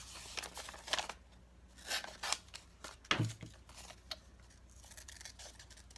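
Scissors snipping through paper while cutting out mixed-media paper flowers, a series of short crisp cuts and rustles at close range, fairly quiet, with no talking.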